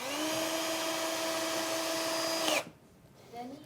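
A handheld drill-screwdriver drives a screw with a steady, close, whirring motor whine that runs for about two and a half seconds, then cuts off abruptly.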